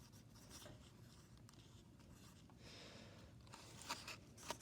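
A pencil writes a word on a paper math worksheet, leaving a faint, close, continuous scratching with a few sharper strokes toward the end.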